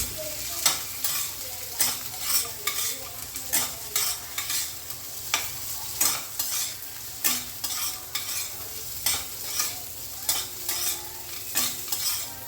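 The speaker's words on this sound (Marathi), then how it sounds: "यातच कापलेले बटाट्याचे तुकडे टाकूया आणि ते थोडा वेळ परतून घेऊया तुपात." Potato pieces sautéing in ghee for Maharashtrian sabudana khichadi, a steady sizzle broken by regular scraping stirs of a spatula roughly every half second, close and alone with no talking.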